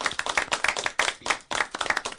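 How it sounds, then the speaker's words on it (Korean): Studio audience at a Korean health lecture clapping in welcome, fast rhythmic hand claps in bursts, close and clear, with no talking. "여러분 다 같이 박수"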